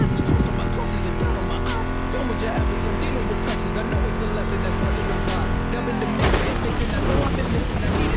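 A Mustang GT muscle car engine in The Crew Motorfest racing game drones loud and steady with rising and falling revs, mixed with a music riff. A brief burst of louder noise comes near the end.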